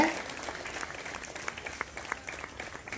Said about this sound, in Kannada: ಏನು ಕಡಿಮೆನಾ ಚಪ್ಪಾಳೆ? ದಯವಿಟ್ಟು ಹೊಡಿಬೇಕು